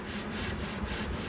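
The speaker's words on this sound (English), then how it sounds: "80 grit's usually my go-to starting of the sanding" Coarse 80-grit sandpaper rubbing on the heel of a pine guitar body, a steady, close, continuous scratchy hiss with gentle repeated strokes and no talking.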